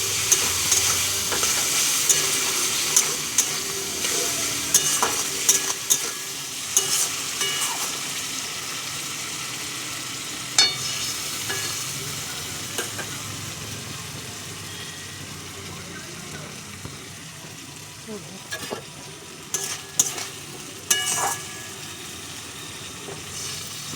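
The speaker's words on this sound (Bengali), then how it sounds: "দিয়ে ভালো করে কষে নেবো, গ্যাস আস্তে দিয়ে দেবো, নাহলে মশলা পুড়ে যাবে।" Tomato and spices stir-fry for vegetarian ghugni with a continuous loud sizzle, while repeated scraping and clinks from a spoon stirring the pan rise through it.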